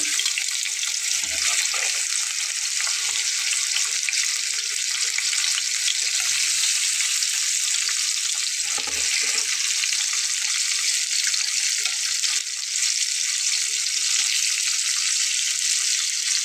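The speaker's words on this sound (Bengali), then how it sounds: "মাছগুলো অবশ্যই সাবধানে দিতে হবে তাই এটাতে তেল ছিটে ওঠে" Fish frying in a pan of hot oil makes a loud, unbroken hissing sizzle with scattered spitting crackles, steady and close for the whole stretch, with no one speaking.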